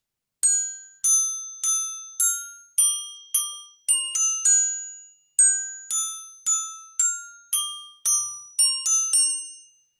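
A glockenspiel, chromatic bells used in a first-grade music lesson, plays a simple melody of clear ringing metallic notes at a steady tempo, each struck tone decaying quickly, with brief pauses between phrases and no other sound.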